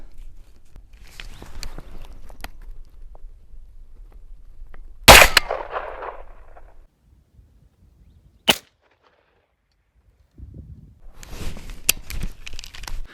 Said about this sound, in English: I'm just going to aim right at the bullseye and take one shot.